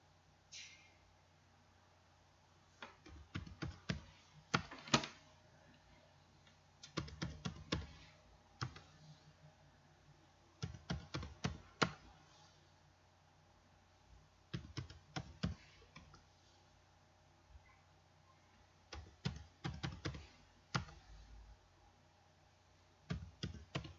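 Quiet, close keyboard typing in short irregular bursts of rapid clicks separated by pauses, with no talking.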